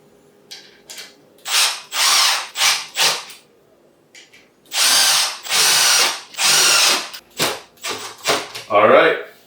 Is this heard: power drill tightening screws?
yes